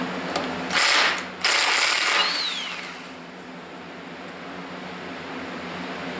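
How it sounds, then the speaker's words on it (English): A ratchet fitted with a large inch-and-a-half socket loosens the vibration dampener nut on a forklift engine, giving two loud close bursts of rapid clicking followed by quieter room noise. "Inch and a half socket. We'll pull the nut off the vibration dampener here."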